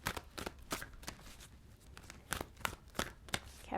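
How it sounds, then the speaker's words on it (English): A tarot card deck being shuffled by hand, a quick series of crisp, riffling bursts close up with short pauses between them, fairly quiet. "One more shuffle, please, for Capricorn."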